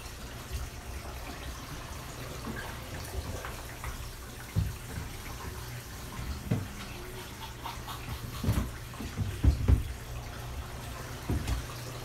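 Water runs through a GFO reactor in the sump of a saltwater aquarium, a steady low gurgling flow with occasional splashes and knocks, heard nearby without speech.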